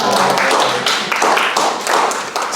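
Audience applause at a medical lecture on atrial fibrillation: dense, steady clapping from a crowd, loud and close, lasting a few seconds without pause.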